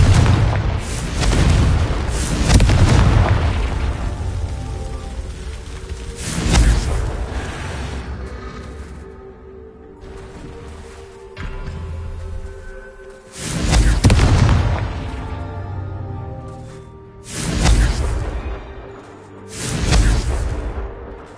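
Loud booming blasts from the Confringo explosive spell cast in Hogwarts Legacy, five or six heavy bursts spaced a few seconds apart, each with a rumbling tail.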